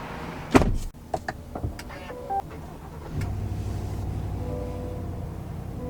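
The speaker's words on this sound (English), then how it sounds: "The steering wheel is automatically adjustable." Power-adjustable steering column motor in a 2022 GMC Yukon Denali, a steady low electric whir starting midway and running continuously, preceded by a few sharp clicks and knocks inside the cabin, fairly quiet and close.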